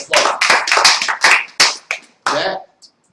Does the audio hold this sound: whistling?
no